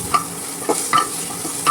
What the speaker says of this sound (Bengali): দিয়ে এবার একসাথে একটু নেড়ে নেবো